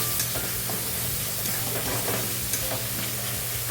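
Spices fry in a pan for green peas pulao, giving a loud, continuous close-up sizzle with soft stirring scrapes running under it and no voices.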